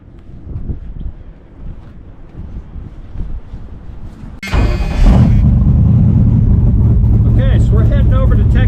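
A loud Shelby Daytona engine roars while driving, starting as a lower rumble with wind buffeting, then surging into a strong, sustained drone from about four and a half seconds onward.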